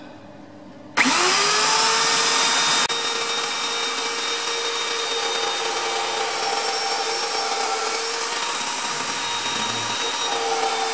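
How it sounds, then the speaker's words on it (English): An old electric drill whirs on suddenly and runs steadily at a loud, strained pitch, droning on without letting up. "Time to start the drill that sounds like it's gonna kill itself."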